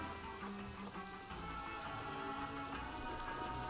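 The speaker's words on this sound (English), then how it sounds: "it's raining again in the zoo." Steady rain falls across a zoo park in the video game Planet Zoo, a continuous dense patter with soft musical tones beneath it and no talking.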